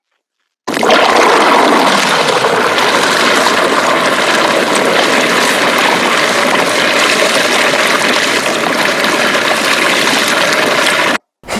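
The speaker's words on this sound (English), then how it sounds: "if you listen closely, you can hear the gurgling and that toilet flushing sound" A Yellowstone geyser gushes and gurgles like a flushing toilet, a loud, steady rush of water that starts abruptly and holds for about ten seconds before cutting off.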